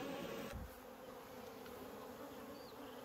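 Bees buzzing in a steady, continuous hum at the middle hive of an apiary, close and even in level, with a brief soft knock near the start and no talk.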